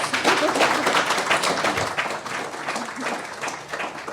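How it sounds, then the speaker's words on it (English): An audience applauds steadily for about four seconds, many hands clapping at once in a dense, even patter that tapers slightly toward the end. "maybe we could all give them a round of applause"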